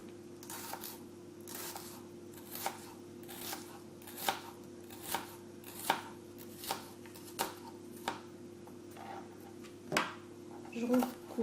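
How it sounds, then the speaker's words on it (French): A knife slices spring onions into thin strips on a board with a dozen or so crisp, evenly spaced chops under a steady background hum, and speech is faintly present. "Je prends mes cébettes et je vais les couper en toutes petites lamelles."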